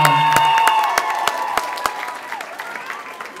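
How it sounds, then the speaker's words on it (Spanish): Crowd applause and some cheering at a quinceañera party, scattered sharp claps over a lingering musical tone with background voices, the clapping thinning and fading toward the end. "Un fuerte aplauso que se oiga."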